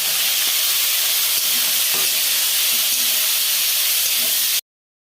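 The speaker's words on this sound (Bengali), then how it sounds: "তেলটা গরম হলে কাঁকড়াগুলো দিয়ে ভেজে নিলাম" Small spicy crabs fry in hot oil with ground spices, a loud, dense sizzle and hiss close to the pan that cuts off abruptly near the end.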